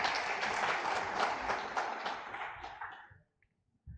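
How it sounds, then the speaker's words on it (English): A fintech conference audience gives a hearty round of applause that stays dense for about three seconds, then tapers off quickly into silence before a faint sound returns at the end. "can I request we give the team led by Yo Uganda another big round of applause"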